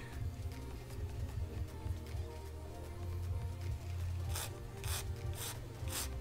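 Plastic parts from a Tamiya Volvo FH12 1/14 scale RC truck kit are smoothed off with a steady, close scraping rasp, then a few sharper rubbing strokes toward the end.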